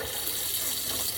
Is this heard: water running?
yes